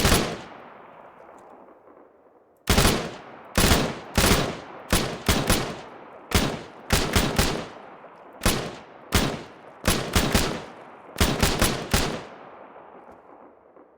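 An MA5K-style assault rifle fires in an Arma 3 mod, sharp loud bursts of several rapid shots repeating every second or so, each followed by a short echoing tail, with no talking over them.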